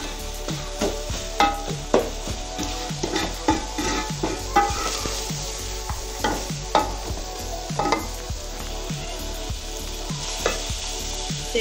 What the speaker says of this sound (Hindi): अब मैं डालूंगी इसमें ये मटर डालेंगे और 5 मिनट इसे हम पकाएंगे।